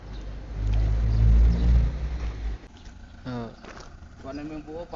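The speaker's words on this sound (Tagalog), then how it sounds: "na-distract ako sa mga dumadaan na sasakyan" Vehicles passing on a road near a walking person, a loud low rumble swelling and fading over the first half, then quieter traffic noise under a voice talking.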